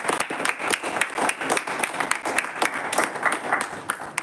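Audience applause welcomes an evaluator to the stage at a Toastmasters club meeting in Gurgaon; a small group claps close by with distinct, uneven individual claps over a few seconds.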